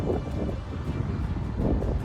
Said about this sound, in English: It's still a little bit windy, but nothing like it was this morning.